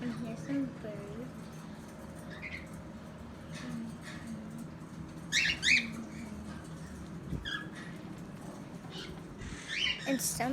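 Pet birds in a room give several short, sharp squawks and chirps scattered over a quiet, low background, with a few close bursts standing out.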